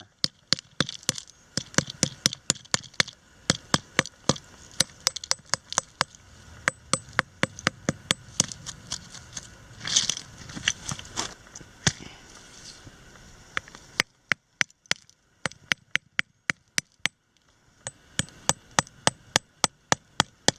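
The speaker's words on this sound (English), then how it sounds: "It usually chips off pretty nicely with a small hammer" Rapid, sharp metallic taps of a small hammer chipping crust off a Civil War artillery relic, dozens of close strikes in irregular bursts, with brief pauses between runs.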